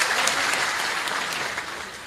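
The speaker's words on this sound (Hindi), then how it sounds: "जनता तालियों की गड़गड़ाहट से गूंजनी चाहिए" An audience at a membership ceremony in the Physical College auditorium in Gwalior claps in a dense, steady burst of applause that fades slightly toward the end.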